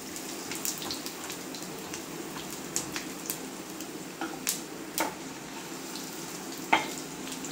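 Dried red chili and asafoetida sizzle steadily in hot oil while a Telugu-style chukakku chutney tempering is made, a close, continuous crackle with scattered sharper pops throughout.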